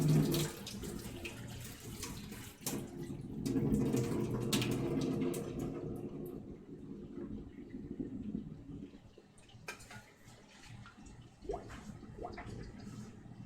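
Hot water poured off cooked parsnips into a kitchen sink, a steady rushing splash for the first several seconds that thins to a trickle, with a few clatters of the pan.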